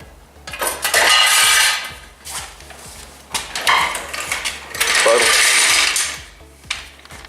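A car lift lowers a vehicle during an oil change on a Dodge Chrysler Jeep 3.6 Pentastar, with repeated ratcheting mechanical clicks and two louder metallic hissing surges, close and with no talk.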